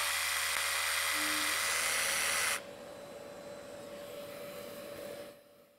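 An 18 V cordless drill-driver whirs loudly and steadily for about two and a half seconds, then cuts off abruptly, leaving a quieter hum with a thin steady tone behind it.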